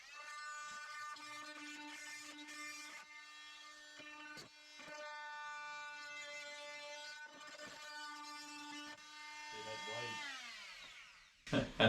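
A power saw blade cuts through a boat hull. Its motor gives a steady, tonal whine that wavers with the load, breaks briefly mid-cut and winds down at the end.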